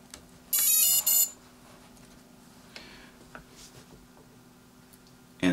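Quadcopter ESCs on a Mini 250 build give a short pair of loud, high electronic beeps as the battery is plugged in, followed by a quiet hum with faint clicks and another brief beep at the end.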